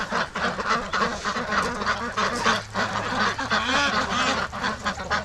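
A flock of Pekin ducks quacks and honks continuously in a pen, overlapping calls close by and fairly loud.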